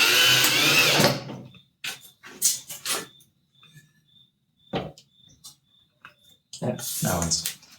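A power drill drives screws into a homemade teleprompter, starting with a loud whirring burst and followed by shorter intermittent bursts, clicks and pauses, with a voice talking between them.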